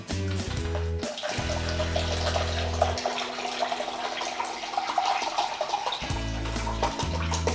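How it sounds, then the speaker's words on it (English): Filtered cold water runs steadily and fairly loudly, a continuous pouring rush with shifting tone as it fills a container for homemade kefir, no voices. "time to add now our filtered cold water."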